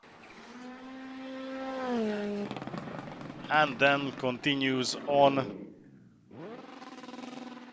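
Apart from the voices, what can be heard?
rally car engine after crashing off forest stage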